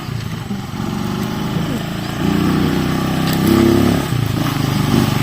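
A motorcycle engine hums and revs at close range at a roadside checkpoint, its low drone swelling louder twice as it passes, with voices talking over it.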